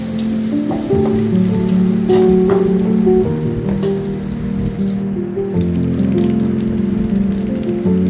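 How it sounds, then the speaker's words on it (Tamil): Sliced shallots and curry leaves frying in a pan for a prawn curry, giving a steady, close sizzle with crackling pops that carries on throughout, with no talking. "அதோட ரெண்டு கற்று கருவேப்பில் எல்லாத்தையும் நல்லா கலர் சேஞ்ச் ஆகிற வரைக்கும் வரைச்சிக்கலாம்"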